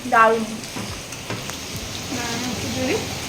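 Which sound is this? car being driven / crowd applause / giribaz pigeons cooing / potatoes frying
potatoes frying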